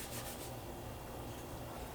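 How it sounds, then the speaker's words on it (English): Epoxy coating on a stained wooden gift is buffed, a faint, continuous close rubbing hiss without breaks. "And then we're going to go ahead and buff"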